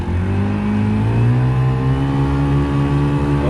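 An 18 lb Watersnake electric outboard motor drives a Crescent K-Craft boat, giving a steady rising whine and hum with engine harmonics that climb slightly as it speeds up.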